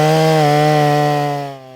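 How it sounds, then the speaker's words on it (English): A Stihl chainsaw, an MS250 or 041 with a muffler mod, runs loud and close at high revs cutting a log, a steady buzzing drone that drops off sharply at the end. "I'll tell you what I think while I cut this log back just a little bit."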